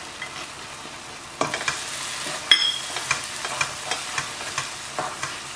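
Cumin seeds and cashew nuts fry over low flame in a pan for butter chicken, a steady close sizzle with regular scraping stirs and light clinks from the spoon, no voices.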